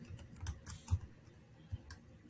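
Faint, close keystrokes on a computer keyboard, a short irregular run of soft clicks and taps.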